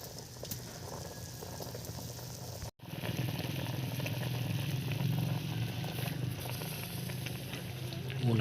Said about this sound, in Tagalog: Ito mga loads, nagburburit na, kumukulo na siya.